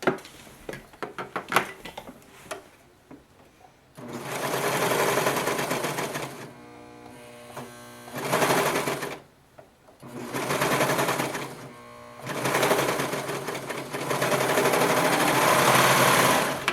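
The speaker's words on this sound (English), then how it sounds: "now I'm going to serge that edge." A serger overlock machine stitches along the edge of a child's boxer briefs in loud, steady runs of fast mechanical whirring, broken by several brief pauses between bursts.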